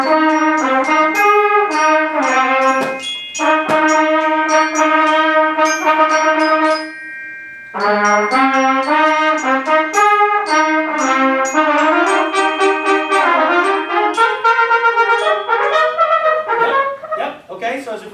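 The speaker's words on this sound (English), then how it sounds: "Let's hear trumpets and bells right there at S." A school band section of trumpets and bells plays a bright, loud melodic passage in rehearsal, ringing bell tones mixed with brass, with a brief pause before the phrase resumes.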